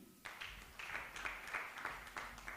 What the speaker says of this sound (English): And then a big hand clap for our production team.